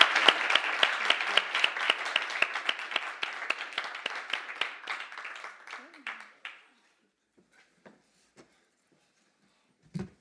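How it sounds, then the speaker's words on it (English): A room full of people applauds a panel at the AI Fringe event with dense, steady clapping that gradually fades over about six seconds. A few isolated claps and a short thump follow in near silence. "I would like to join me in a round of applause for a wonderful panel"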